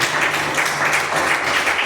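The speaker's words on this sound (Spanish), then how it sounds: "Alguien puede dar un aplauso a Dios" A church congregation claps in a steady, dense wash of applause that fills the whole short moment at an even, fairly loud level.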